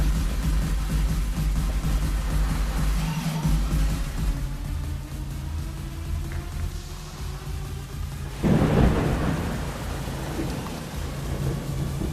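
Heavy rain pours steadily while deep thunder rumbles close by, swelling into a louder crack and roll near the end.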